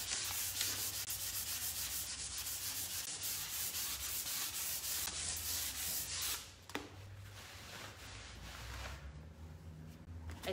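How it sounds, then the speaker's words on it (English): A cloth rubs hemp finishing oil into scratched, textured wood, giving a close, continuous dry scrubbing with faint catches and a brief lull near the middle before the rubbing resumes. "Can you hear that sound? That's my cloth catching on it."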